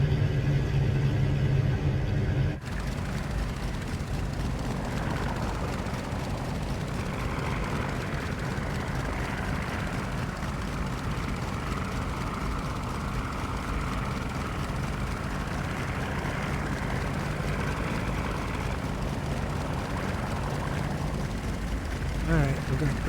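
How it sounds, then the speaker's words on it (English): A Pasped Skylark propeller plane in a flight simulator game revs its engine for takeoff, a steady loud drone with rumbling roar that holds for most of the stretch, with a person talking over it. "Let's go ahead and take off."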